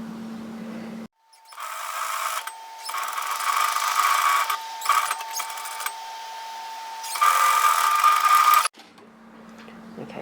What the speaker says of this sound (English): sew a 1 centimetre, 3/8 of an inch seam allowance